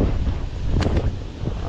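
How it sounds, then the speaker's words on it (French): Wind blowing steadily outdoors at a pike-fishing spot, a continuous broadband rush buffeting the microphone, with a brief gust swell midway. "Alors il y a un peu de vent."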